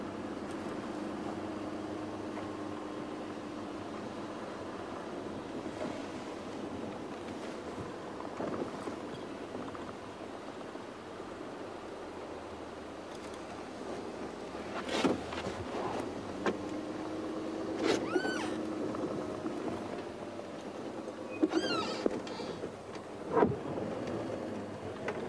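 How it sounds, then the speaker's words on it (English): Steady broadband hiss of a fresh wave of rain sweeping in over the Sabi Sand bush at sunrise, with scattered louder knocks and a few faint bird calls near the end. "So there's the next wave of rain."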